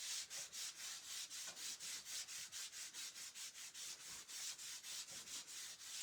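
A finish is rubbed onto a rustic wooden round with a cloth, making fast, even back-and-forth swishing strokes, close up and steady, with no talking.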